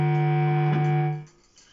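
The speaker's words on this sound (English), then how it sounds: "Amplifier here, just so you know, it's a Blackstar HD60. I'll just pop it on distortion." Epiphone Les Paul Special electric guitar played through a Blackstar HD60 amplifier set to distortion: one loud, sustained overdriven chord rings for just over a second, then cuts off sharply.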